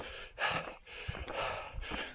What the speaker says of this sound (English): The hills are alive with the sound of gasping.